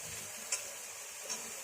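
Onions frying in a pan for capsicum chicken give off a soft, steady sizzle, with two light clicks of stirring breaking through. No one speaks.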